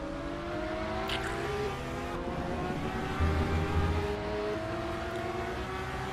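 A Porsche race car in a Porsche Super Trophy race, heading out of the pits on track, its engine a steady drone with a rising and falling pitch under faint background noise.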